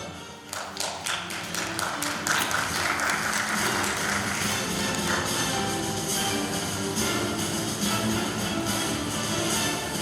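An audience claps at an award ceremony in Malatya as a web television award winner is called up, starting with scattered taps and building into dense, steady applause that lasts to the end.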